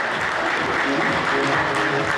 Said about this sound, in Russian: давайте еще раз громко поаплодируем